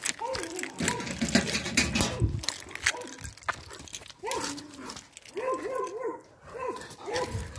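A dog whines and yelps in rising, wavering cries, with scuffling noises and people's voices mixed in close by.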